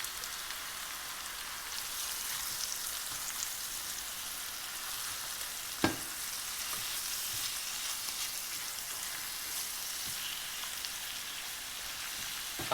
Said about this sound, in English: A quick sear is all that's required